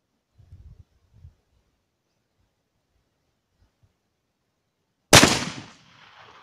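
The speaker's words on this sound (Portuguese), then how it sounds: "vou lá tá efetuando disparo a 40 metros" A single loud rifle shot fired at a 40 metre target, sharp and close, with a short decaying echo after a few seconds of quiet broken only by faint handling noises.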